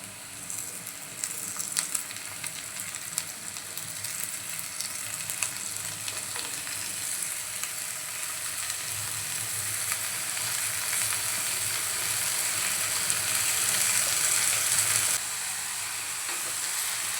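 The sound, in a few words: red amaranth leaves sautéing with onion in pan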